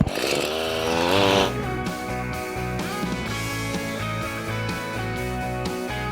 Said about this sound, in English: bring our edger, a 20-year-old steel string trimmer here